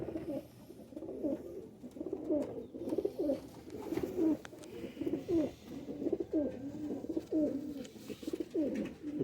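Pigeons of a patti-marked cross breed cooing in a loft, soft repeated throaty coos that come in rhythmic bursts at close range with no talking.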